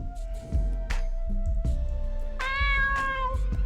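A cat's meows in a minigame of the video game Ethereal Sunder, two or three clear close calls over game music and clicks, the last one drawn out and wavering.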